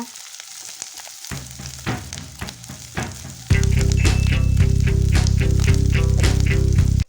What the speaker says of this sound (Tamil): வெங்காயத்தை டூ மினிட்ஸ் மட்டும் வதக்குனதும் அதோட வெள்ளைப்பொடி இதிலையும் இஞ்சியையும் ஆட் பண்ணணும் அதையும் ஒரு டூ மினிட்ஸ் ஃப்ரை பண்ணுங்க